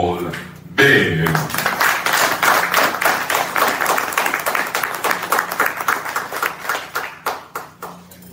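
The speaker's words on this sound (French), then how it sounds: "Mesdames et messieurs, je vous demande d'applaudir Dr. Paul Bert." An audience at an evening tribute event for a Haitian sports club breaks into sustained applause, dense clapping that swells quickly, holds steady, then thins into scattered claps toward the end.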